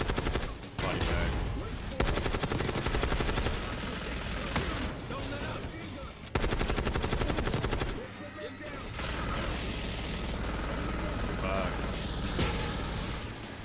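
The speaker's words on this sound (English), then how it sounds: "Watch the minigun." Rapid automatic gunfire and minigun bursts in the video game Call of Duty Black Ops 6, loud sustained rattling volleys with short pauses, followed by rumbling battle noise and faint voices.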